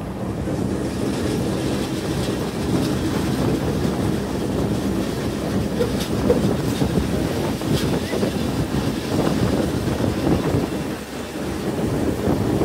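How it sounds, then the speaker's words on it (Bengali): A Bhanga-bound commuter train runs out of Dhaka on a new line past platform 9, giving a steady, loud, broadband rumble of wheels and carriage noise that holds without a break from start to end. "আর আমাদের ট্রেনটি এখন 9 নং প্ল্যাটফর্মের যে নতুন লাইন রয়েছে সে নতুন লাইন দিয়ে এগিয়ে যাচ্ছে"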